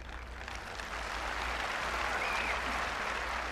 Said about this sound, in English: Always gets a round of applause